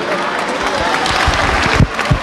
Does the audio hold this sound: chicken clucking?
no